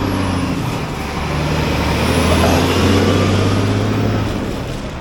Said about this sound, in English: A lot of cars, got to be careful, fast cars coming past.